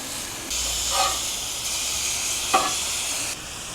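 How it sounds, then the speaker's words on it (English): Burger patties sizzle on a griddle of a Coleman RoadTrip 285 propane grill, a steady close hiss with a couple of brief louder crackles and a shift in level midway. "This burger's starting to sizzle on that griddle a little bit"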